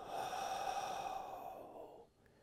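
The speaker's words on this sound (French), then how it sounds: "j'expire." A single long, soft exhalation through the nose and mouth during a Pilates exercise, a gentle breathy hiss fading out after about two seconds, close and quiet with no talk.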